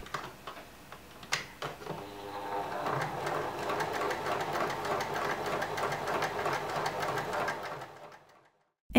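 A sewing machine stitching darts in fabric for trousers, a few clicks and knocks giving way to a fast, steady mechanical whir and chatter that runs close and loud for several seconds, then stops, with no talk.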